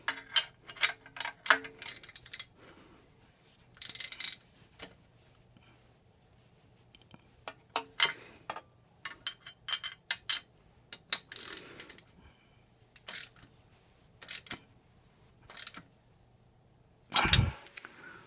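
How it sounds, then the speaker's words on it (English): A torque wrench clicks and ratchets in sharp, irregular bursts while tightening Akrapovic titanium exhaust headers on a Yamaha XSR900, close and distinct against quiet, ending in a heavier clunk. "This is probably gonna be my last torquing sequence."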